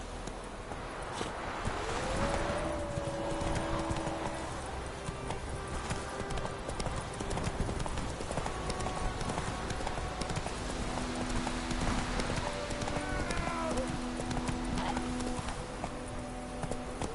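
Horse galloping in The Witcher video game, rapid rhythmic hoofbeats on a dirt road that continue throughout, with brief whinnies and faint music tones over the top.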